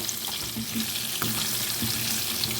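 Potatoes frying in oil for a vegetarian cabbage kofta curry, a continuous close crackling hiss with faint scrapes of a utensil and no one speaking.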